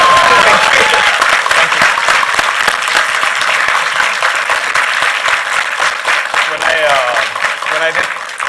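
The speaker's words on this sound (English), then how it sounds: "I never used to get boos and applause like that." Sustained loud applause fills the hall as an audience welcomes a startup founder onto a live stage, clapping dense and steady throughout with some cheering and voices mixed in near the end.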